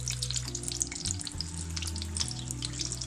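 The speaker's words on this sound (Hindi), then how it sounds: "इसलिए हम इसको हल्की आंच पे ही फ्राई करेंगे।" Mixed vegetable kachori frying in oil over a low flame gives a steady, close crackle and bubbling hiss with a low hum underneath.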